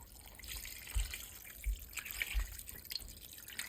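Gravy made from a low-sodium gravy mix drips and trickles quietly into a pot of oxtails, with a few soft splashes and low thuds, close by and otherwise calm.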